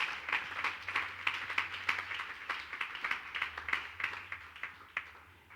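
A church congregation claps in praise during a sermon, a fairly close burst of many hands applauding in uneven rhythm for several seconds under a low background hum.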